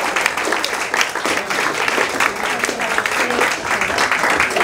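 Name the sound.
audience applause for Ambia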